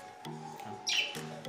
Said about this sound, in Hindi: यहाँ पर पक्षियों का आवाज़ सुनाई दे रहा है क्योंकि हमारे घर में पक्षी है